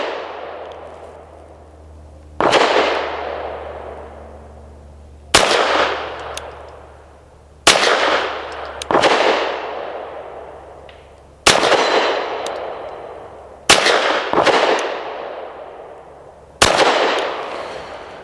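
Seven sharp, loud reports ring out from a Hammerli Forge H1 .22 pistol at uneven intervals, each one followed by a long echoing decay, with no talking between shots.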